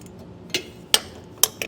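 Bolts being tightened on the rear brace of a B&W Turnoverball underbed gooseneck trailer hitch on a 2023 Ford truck. Four sharp metallic clinks come at irregular intervals, close by and fairly crisp, with no talking.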